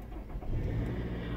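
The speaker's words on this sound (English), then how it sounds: "This car we're in is an X-Trail" Nissan X-Trail with keyless push-button start turning over inside the cabin, a steady low engine rumble settling into idle, heard from the seat, no talking.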